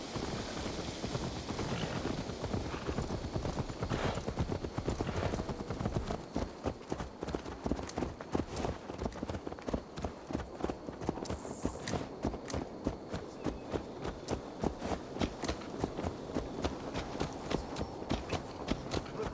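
Horse hooves clip-clop in a steady walking rhythm in the video game Assassin's Creed Valhalla, close and clear throughout, with a soft ambient bed behind and no talk.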